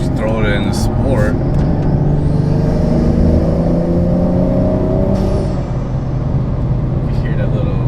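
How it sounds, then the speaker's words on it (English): A BMW 435i xDrive fitted with a CTS turbo intake revs in sport mode, its engine droning with rising whine tones and a quick diverter-valve whoosh near the end, while someone talks over it. "You hear that little diverter valve, kind of almost a blow-off valve sound."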